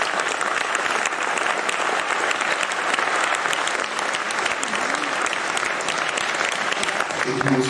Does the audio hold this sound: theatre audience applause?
yes